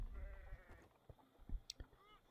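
Sheep bleating in the Age of Empires strategy game, a few wavering bleats near the start followed by scattered short game clicks and thumps, fairly quiet overall.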